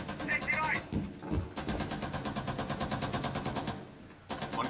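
Rapid bursts of automatic gunfire and sharp shots crackle through a Rainbow Six Siege firefight in a close-quarters team deathmatch on the Bartlett U map, loud and dense with brief gaps.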